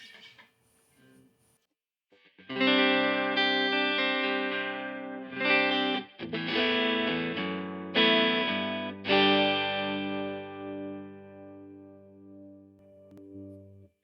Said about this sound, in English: That's our clean tone. It's nice and lush.